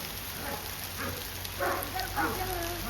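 Steady rain hisses and patters throughout, with muffled voices faintly audible underneath.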